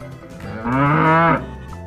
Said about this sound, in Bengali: ষাঁড় ষাঁড় ছুটেছে পুকুর পাড়